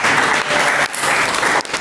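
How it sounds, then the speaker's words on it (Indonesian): Classroom applause during a lesson, a short loud burst of many hands clapping close by, with two brief dips before it picks up again. "Tepuk tangan."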